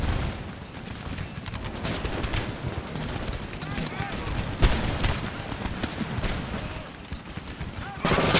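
Mortar shells burst in Empire Total War (Darthmod) battle, a dense continuous barrage of booms and crackling gunfire filling the whole stretch, with voices talking beneath.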